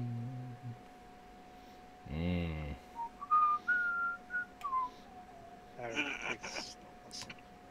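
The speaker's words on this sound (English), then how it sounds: "no whistling, please" A person whistles a short run of clear, high melodic notes at close range, bracketed by brief bursts of nearby talk and a low steady hum.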